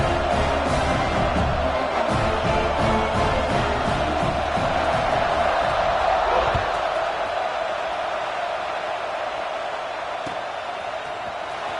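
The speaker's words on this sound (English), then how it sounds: "this crowd is buzzing after that last score" A college football stadium crowd at Wisconsin vs Oregon buzzes after a score, a dense, steady roar that fills the space and eases slightly toward the end.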